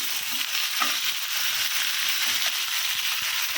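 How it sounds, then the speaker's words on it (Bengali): Ginger-garlic paste fries with onions in hot oil, giving a steady close sizzle broken by occasional soft scrapes of stirring, with no talking. "এখন আদা রসুনটাকে পেঁয়াজের সাথে ভেজে নিচ্ছি"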